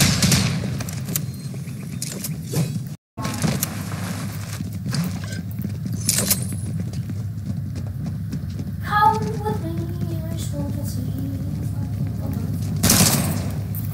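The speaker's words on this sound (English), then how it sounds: "Shots fired." Gunfire in the video game Fortnite, scattered shots and bursts over a continuous game soundscape with other effects, moderately loud, with players occasionally talking.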